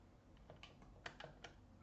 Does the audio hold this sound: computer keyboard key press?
yes